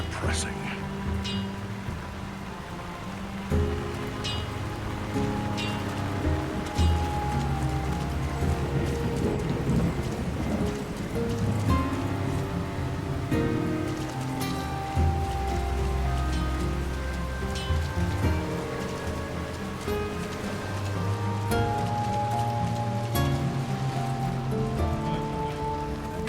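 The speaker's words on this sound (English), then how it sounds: "Who can live in a town where it's always raining?" Steady rain falls over a town in the video game Lord of the Rings: War in the North, a continuous hiss with low rumbles and mechanical clanks beneath, heard alongside game music and voices.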